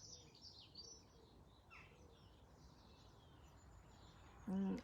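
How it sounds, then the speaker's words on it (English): Faint birdsong and chirps drift over a steady low outdoor rumble, with a brief louder thump near the end. "Can you hear the birds?"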